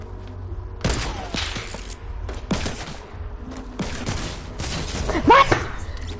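Bursts of gunfire from an Epic Games shooter arrive in rapid clusters, loud and close. A few single thumps and some sharp higher debris sounds sit between the volleys.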